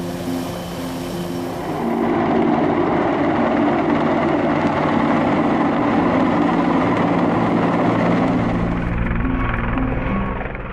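Heavy Soviet Mil Mi-26 helicopter, a loud, continuous rotor and turbine drone with steady thumping blade rhythm, close and sustained throughout without any talking.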